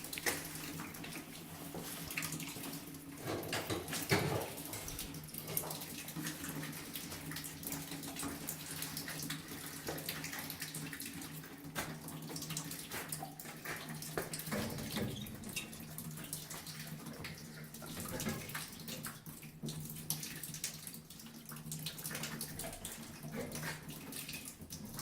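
Water running and draining through building plumbing during a shutdown, a steady rushing wash that continues throughout with faint clanks, moderately quiet and without speech.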